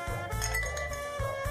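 Glasses clinking together in a toast during a drinking party game: a few bright, ringing clinks close by, with a faint low background murmur and no talking.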